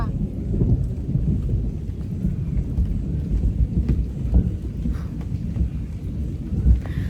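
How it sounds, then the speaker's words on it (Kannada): Deep, heavy rumbling of thunder rolls continuously under steady rain, with a louder crack-like swell near the end. "ಎಷ್ಟು ದೊಡ್ಡ ಗುಡುಗು ಗೈಸ್ ಕೇಳಿಸ್ಕೊಂಡ್ರಾ"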